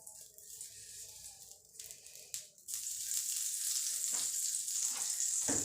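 Ghee heating on a hot tawa griddle for potato and onion pooras gives a soft, steady sizzle that grows louder and fuller partway through and then holds as a constant close hiss, with no talking.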